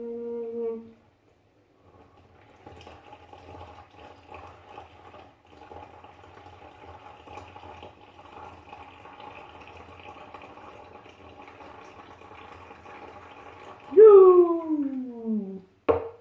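Milk being poured into a bowl for crêpe batter, a steady low liquid trickle running for several seconds, ending with a louder sweeping sound and a voice exclaiming.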